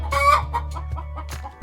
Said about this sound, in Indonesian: Ayam cemani bahasa Inggrisnya cemani chicken.